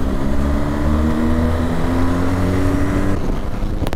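A BMW R1250 GS motorcycle accelerates hard in fourth gear, its engine note climbing steadily and loud for about three seconds before easing off as the rider rolls back the throttle.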